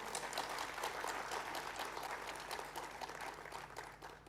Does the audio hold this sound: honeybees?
no